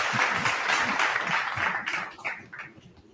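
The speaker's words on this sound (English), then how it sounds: "Give me my round of applause" Scattered applause and clapping from an audience, uneven bursts of hand claps that thin out and grow patchier toward the end, with some voices mixed in.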